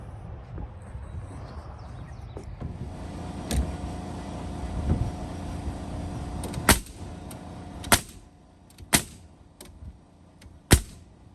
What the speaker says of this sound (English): Staples, or I call them staples, or actually it's a nail gun.